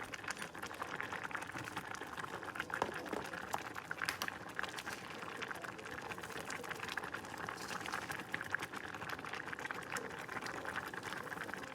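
Curry of dal, chilli and onion simmering in a covered pot, a steady low bubbling and hissing that runs evenly throughout with no talk.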